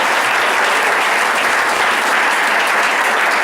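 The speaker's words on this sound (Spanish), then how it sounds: "Ofrenda de aplausos al Señor" A church congregation gives a loud, dense offering of applause to the Lord during a sermon by Pastor Efrain Andrade. The clapping is steady and full, with no voices over it.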